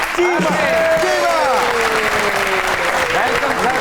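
A TV comedy show's studio audience claps loudly as a guest is welcomed, steady dense applause overlaid with a voice and drawn-out background music or cheering tones sweeping across the clip.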